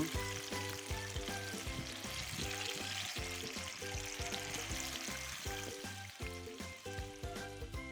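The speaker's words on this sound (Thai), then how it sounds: "แล้วนำไปทอดจนสีเหลืองทอง" Persimmon shrimp rolls deep-fry in hot oil with a faint, steady crackling sizzle, heard quietly beneath a prominent rhythmic music track.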